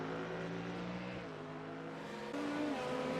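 Race car engines at the Long Beach street circuit in a sim racing video game, a steady close drone of several cars with shifting pitch and a jump in engine note near the end, with no talk.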